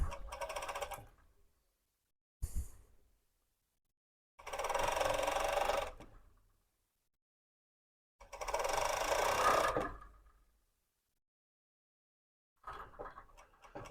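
A sewing machine stitches two hood layers of a hoodie in short bursts, a steady close mechanical whirr running for one to two seconds at a time with quiet pauses between, plus a brief click.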